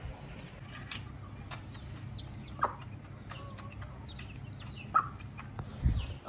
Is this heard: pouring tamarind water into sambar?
no